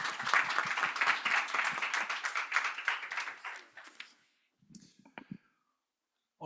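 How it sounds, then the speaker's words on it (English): Applause from a conference audience for panelists at a G20 Social Summit side event. Dense clapping runs for about four seconds, then fades into a few scattered claps and faint noises. "Another round of applause for our panelists."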